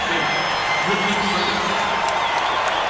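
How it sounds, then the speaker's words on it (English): A packed basketball arena crowd at a 1995 Magic at Bulls playoff game roars and whoops in reaction to a foul, a continuous loud wall of cheering and crowd noise with no break. "You'll hear the crowd react to this."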